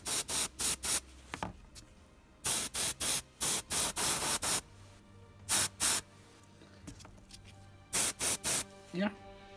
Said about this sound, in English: So now we're done with the airbrushing